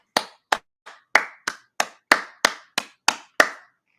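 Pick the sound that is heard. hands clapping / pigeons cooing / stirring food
hands clapping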